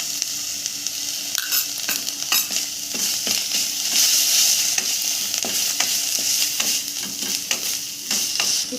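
Ginger garlic paste fries in hot oil for a Bengali prawn curry, with a close, continuous sizzle broken by repeated scraping and clacking as a spatula stirs the pan.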